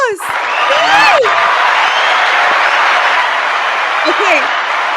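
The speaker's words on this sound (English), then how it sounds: "More round of applause, guys" A loud audience bursts into sustained applause and cheering at a live show, dense clapping with whoops and shouts filling the whole stretch close to the listener.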